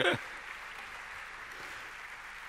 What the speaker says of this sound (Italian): Un applauso a Maris Franzoni